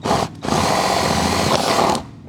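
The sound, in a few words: power drill drilling a hole in a car cup holder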